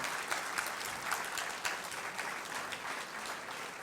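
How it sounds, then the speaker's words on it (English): Audience applause for startup teams at a RISC-V technology symposium, a steady dense clapping from a large crowd that holds evenly throughout without speech. "I think we should give a grand round of applause for all of them here."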